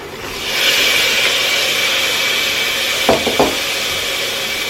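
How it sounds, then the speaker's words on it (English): Soaked white beans tumble into a hot pan of oil and turmeric powder for cabbage soup, with a steady sizzling hiss throughout and a few brief scraping stirs near the end. "Now we add the soaked white beans"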